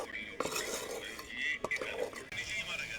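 Chicken being stirred in a pot, with a utensil scraping and clinking against the metal in a few sharp strokes over a soft sizzle, fairly close and moderately quiet.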